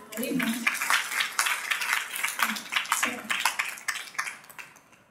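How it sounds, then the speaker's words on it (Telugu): A group of participants at a storytelling training session claps hands in a brief, uneven burst of applause, with soft overlapping claps that taper off near the end. "చప్పట్లు కొట్టండి."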